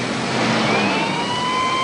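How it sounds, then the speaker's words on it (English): An ambulance pulls away from a rescue scene, its engine and road noise a steady broadband rumble with a faint rising siren-like tone threading through, continuous and moderately loud with no talking. "The ambulance carrying the little girl took off for Bedford County General Hospital"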